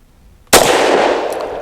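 A single loud Springfield Armory Prodigy pistol shot firing Liberty Civil Defense 50 grain +P ammunition cracks sharply after a moment of quiet, then rings out and echoes for over a second.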